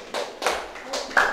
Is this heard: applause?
yes